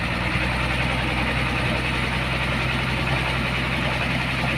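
A truck engine idles steadily without any revving, a constant low rumble with a faint mechanical hum, close and unbroken.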